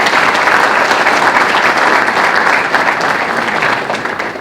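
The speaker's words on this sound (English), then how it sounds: "let's give them a round of applause" Dense, sustained applause from an audience at a police promotion ceremony, loud and continuous before tapering slightly at the end.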